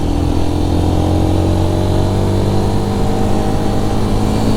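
A Royal Enfield Guerrilla 450 engine held at 5000 RPM in third gear while riding, a loud, steady droning hum with strong low harmonics and wind rush, unchanging throughout with no talk.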